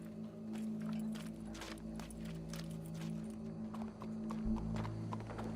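A horse in the video game Red Dead Redemption 2: hooves clop on hard ground at an uneven walking pace over a steady low hum.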